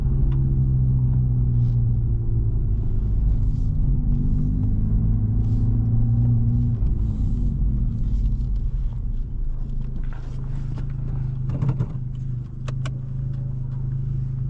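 A 2023 Honda Civic Type R drives through rain on a wet road, with a steady close cabin rumble of engine and tyres and faint clicks and taps near the end.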